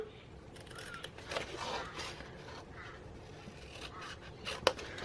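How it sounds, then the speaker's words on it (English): Scissors snip a small corner from a 12 x 12 inch sheet of patterned paper for a gift bag, giving a few sharp cutting clicks over a soft background rustle. "using a pair of scissors, I'm going to cut this little corner out here"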